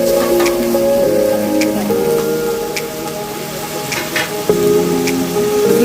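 Spice paste with slit green chillies frying in oil for a Bengali doi katla, a loud continuous sizzle and crackle with occasional spatter pops, under a steady low hum and no talking.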